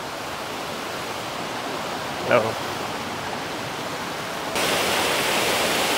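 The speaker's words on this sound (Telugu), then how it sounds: "సో ఇదే అనమాట మెయిన్ వాటర్ ఫాల్. చూసుకుంటే సూపర్గా ఉంది" The main waterfall at Kuang Si Falls in Luang Prabang roars as a steady, broadband rush of falling water, growing noticeably louder over the final second and a half.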